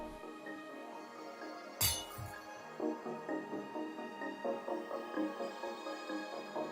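Black stained glass panes are placed one after another in Minecraft, making a sharp glassy clink followed by a quick run of light, rhythmic clicks over a faint background hum.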